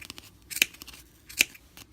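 Two crisp scissor snips cut through yarn edges on a pom pom rug, spaced under a second apart, close and fairly quiet with faint rustling between.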